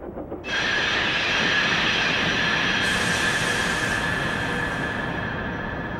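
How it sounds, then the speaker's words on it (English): Brakes of a cartoon steam engine screech loudly inside a quarry, a long sustained metallic squeal with a reverberant, echoing ring that carries on for several seconds without any speech. "Thomas's brakes echo."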